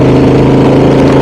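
A motorcycle engine idles steadily up close on a mountain road, a loud continuous low rumble with even pulsing and no revving, heard alone without talk.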